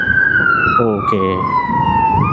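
Wailing emergency siren, police car or ambulance, sweeping steadily in pitch and heard loud and near with road noise from a motorcycle ride, while someone speaks briefly over it.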